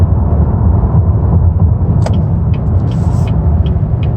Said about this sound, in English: I'm going to swerve.